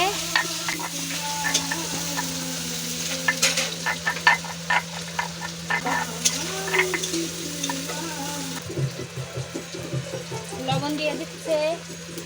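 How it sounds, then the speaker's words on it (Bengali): Onion paste hits hot oil and is stirred, giving a soft sizzle with irregular scraping and tapping strokes, a low steady hum underneath and a faint voice at times. "এবার দিয়ে দিচ্ছি পেঁয়াজ বাটলে"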